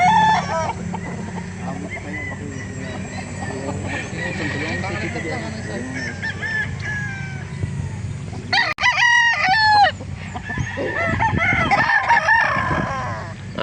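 A rooster for sale at a chicken market in Calauan crows several times in loud, nearby bursts, with other fowl clucking amid general market chatter and people talking throughout.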